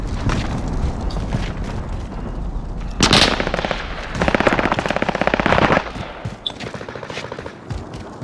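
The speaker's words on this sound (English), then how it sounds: "Taking fire!" Gunfire in a video game: scattered shots, then a sharp blast followed by rapid automatic machine-gun bursts, loud and close, tapering into sporadic distant pops.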